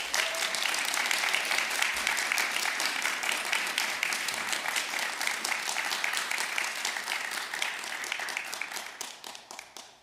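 Sustained applause fills a College Scholars Honors Program cording ceremony at North Central College as a crowd claps for faculty thesis advisors, a dense steady roar that holds for nearly ten seconds before thinning and fading out.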